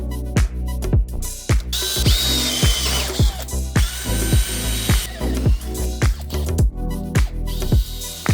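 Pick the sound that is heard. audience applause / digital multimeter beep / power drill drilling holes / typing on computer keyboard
power drill drilling holes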